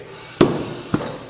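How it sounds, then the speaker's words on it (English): Two sharp, dull pops a half-second apart stand out over a steady hiss of air as tire beads snap into place during inflation on a tire machine. "That's the sound of the beads seating themselves."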